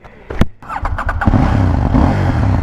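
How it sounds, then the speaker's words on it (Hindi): A KTM Duke 790 motorcycle starts with a sharp crank and a few quick revs, then settles into a loud, close, steady engine throb that keeps running to the end. "So it's time to ride this KTM Duke 790."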